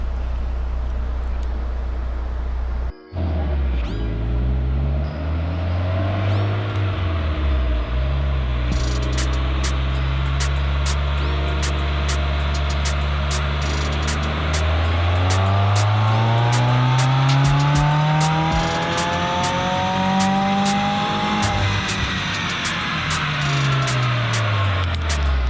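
Tuned car revving hard on a dyno during a protune at a performance shop, with long rising and falling engine sweeps repeated over the run, loud and close, joined later by a crackling, clicking rattle.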